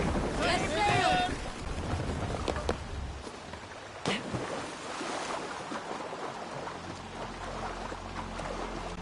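A Viking longship sails in Assassin's Creed Valhalla, with steady wind and water wash around the hull under a brief shout at the start, a sharp knock midway, and rumbling low swells toward the end.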